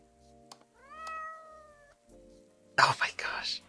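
Cat meowing in the Secret Little Haven video game: a single drawn-out meow with a steady harmonic tone, then a burst of whispery talk near the end.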